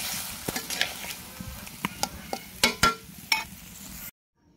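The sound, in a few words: boal fish curry with cauliflower frying on stove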